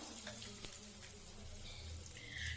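Mango ginger paste hits hot oil already holding mustard seeds and asafoetida, giving a soft, steady sizzle and splutter at low volume with faint kitchen clatter.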